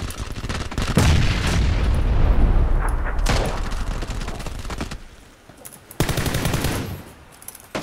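Gunfire in an online shooter: bursts of rapid automatic fire and a heavy grenade blast, loud and close, broken by brief quieter gaps.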